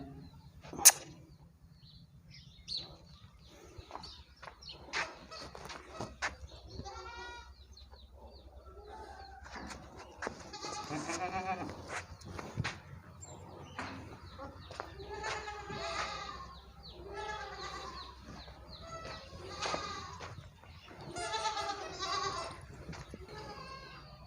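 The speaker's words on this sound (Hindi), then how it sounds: "ये मेल है बकरी का, ये आप देख सकते हैं।" A male Beetal goat bleats repeatedly in a farm setting, several loud drawn-out calls at close range with clucking chickens and faint voices in the background.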